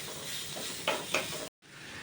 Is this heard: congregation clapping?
no